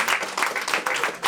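A live audience applauds the host at an evening comedy podcast taping, a short burst of dense clapping throughout.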